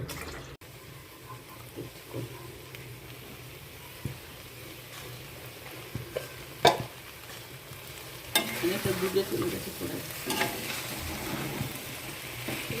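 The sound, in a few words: stirring chicken meat in a pan without oil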